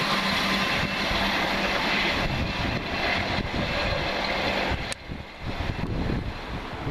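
Southern train running from Brighton to Portsmouth Harbour passes at Hilsea with a loud, steady rumbling roar and wind buffeting the microphone, briefly dipping near the end before the noise resumes.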